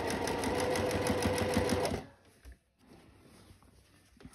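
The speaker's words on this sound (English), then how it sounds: "So now we're going to top stitch" Sewing machine top stitching a floral sundress runs steadily and close for about two seconds, then stops, leaving faint handling noises and a quiet room.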